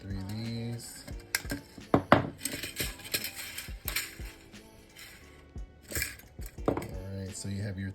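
Cutters snip 18 gauge square wire, giving several sharp metallic clicks and small clinks close by, scattered among handling noises, while a person talks.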